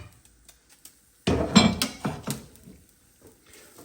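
Metal tongs clink against a bowl while serving soba noodles in miso broth, a short cluster of bright close clinks and scrapes after near silence, then fading to small taps.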